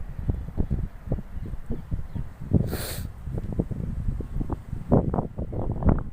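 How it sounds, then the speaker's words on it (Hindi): Strong wind buffets the microphone in continuous gusty rumbles, with a brief hissy burst partway through; no voices. "कितनी तेज़ हवा चल रही है"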